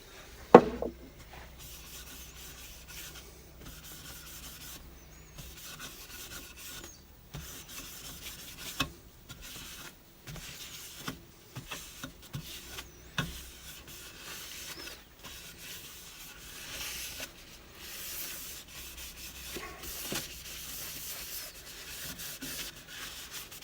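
A wooden winged bowl has finish rubbed into it by hand: soft, intermittent rubbing and scuffing strokes come in uneven bursts, fairly faint and close, with no voices.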